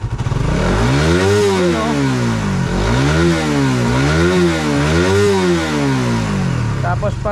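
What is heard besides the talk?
engine revving after the RPM was adjusted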